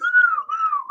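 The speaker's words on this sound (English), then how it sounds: "That's where he just blew that little whistle." A small whistle blown during a wrestling event, a single sustained bright tone about a second long with slight wavering pitch, close and clear with no talk over it.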